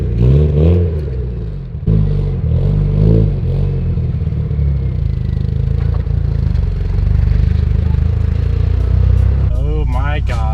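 A Mitsubishi Evo VIII fitted with a T51R turbo drives with a loud rumbling engine and clattering drivetrain noise that swells and revs, close up, with a person talking over it near the start and end.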